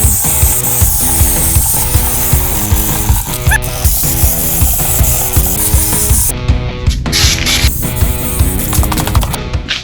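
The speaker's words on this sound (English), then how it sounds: "So I'm going to spray the fender wells out real thick" Thick coating sprayed into the rear fender wells of a 1969 Camaro during a four-link suspension install, a loud, continuous hissing spray over a constant mechanical drone, with a brief shift in tone near the end.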